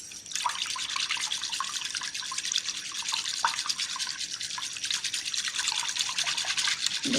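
Homemade alcohol-free hand sanitizer is mixed briskly until it foams, making a continuous wet, swishing and bubbling noise close by, with no talking.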